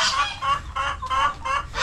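A laying hen cackles repeatedly on a farm in the Philippines, loud and close, in a steady run of sharp clucking calls with no other sound over it.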